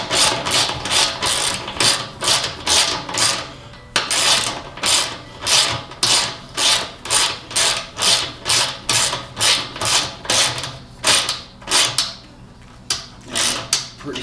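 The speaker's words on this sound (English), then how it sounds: "So 13 and a 12 is the socket you're gonna need." A socket ratchet wrench turns bolts on a Craftsman 3500/4350 watt gas generator. It gives rapid, evenly spaced clicking bursts up close, repeated in a steady rhythm for several seconds before stopping.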